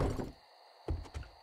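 A door thuds shut in the zombie survival game 7 Days to Die, one short solid knock near the listener followed by a couple of softer bumps.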